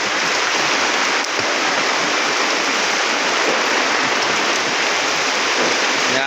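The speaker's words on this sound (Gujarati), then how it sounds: "આજે જોરદાર વરસાદ પડ્યો તમે જુઓ" Heavy rain pours down steadily and loudly, a dense unbroken hiss of water that fills the whole scene, heard by pilgrims walking on foot to Ranuja.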